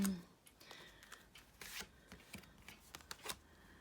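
Tarot cards shuffled by hand nearby, quiet papery riffles and flicks in several short bursts, faint and close.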